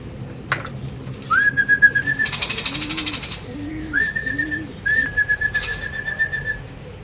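Racing pigeons return to a club loft during a training flight, with soft cooing and wing flutters close by while shrill whistles sound over them.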